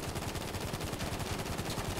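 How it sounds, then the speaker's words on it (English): Rapid machine gun fire in the GTA Online video game during a yacht mission, a steady fast stream of close, loud shots lasting the full two seconds without talk. "No, it's an MG."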